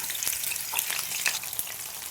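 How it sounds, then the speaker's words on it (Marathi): Bitter gourd pieces frying in hot oil, a dense crackling sizzle with sharp pops scattered throughout, close and steady. "हे कारलं असं तळण्यासाठी घालायचं आहे तेलामध्ये"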